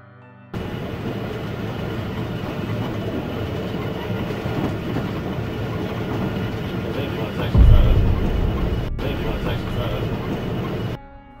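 A train runs slowly along railway tracks, a steady rumbling roll with a heavier low thump partway through, fairly loud and close, with no one talking.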